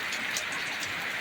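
Heavy rain falls hard at a farm field, a broad constant roaring hiss that fills the short stretch with no break.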